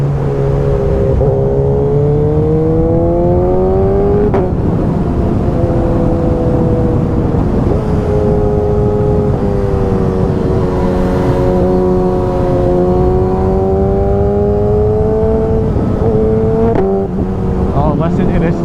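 A 1000cc Suzuki GSX-S motorcycle accelerates hard through several gear changes, its engine whine rising in pitch and then dropping, loud and close with steady wind noise.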